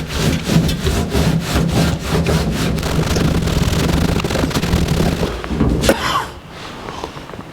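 Vigorous back-and-forth rubbing at Dynamat sound deadener on a 1964 C10 pickup truck panel, a loud, rhythmic scrubbing that runs steadily for about six seconds before easing off into quieter handling noise.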